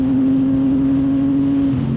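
Idling CFMoto 675 NK motorcycle engine fitted with a full-system shorty exhaust, a steady close hum with a strong low drone, holding an even note with a slight dip near the end.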